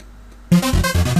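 Trance melody programmed in FL Studio, silent for the first half second, then synth chords and lead notes enter loud and bright in a quick, stepping rhythm with no talking.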